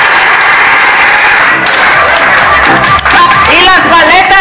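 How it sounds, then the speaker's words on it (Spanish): Applause from guests at a children's birthday party with a clown entertainer, a loud, continuous clapping wash with crowd murmur, and a voice speaking over it near the end. "Fuerte el aplauso para el interventor, por favor."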